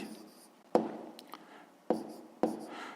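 Pen or pencil writing out a sixth-grade math fraction problem, a few short scratchy strokes and taps at close range, quiet with gaps between marks.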